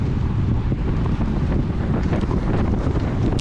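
During a Cat 4/5 road bike race, wind buffets the microphone of a rider heading into a headwind with the peloton. It makes a loud, constant rumbling roar with gusty surges and no voices.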